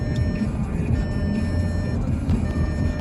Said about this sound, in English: This stupid ass beeping noise.